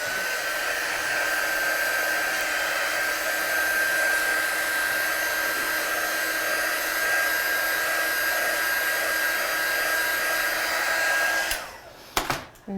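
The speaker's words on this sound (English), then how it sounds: "what I'm going to do is I'm just going to dry that off." A handheld dryer blows over a freshly stamped card, giving a loud, steady close whir with a faint high tone that runs unbroken for about eleven seconds before it switches off and falls quiet.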